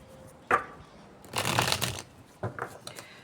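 Tarot cards shuffled by hand in a few separate riffles and flutters, close and crisp against a quiet room, with no one talking.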